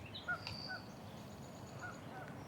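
Canada geese call faintly from a distance by a lake, a few scattered honks over a low, quiet outdoor background.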